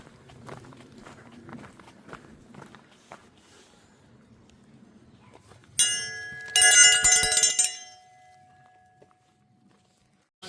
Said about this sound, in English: we'll get going and ring that bell